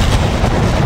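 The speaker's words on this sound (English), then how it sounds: "Watch the airstrike." Airstrike explosion in a video game, a loud, dense rumbling blast that fills the short moment with broadband noise and deep low-end boom.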